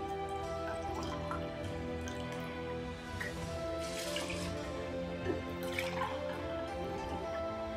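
Water is poured from a measuring glass into an electric rice cooker holding basmati rice, a steady trickling and splashing stream with a few louder gushes, close and continuous with no talk.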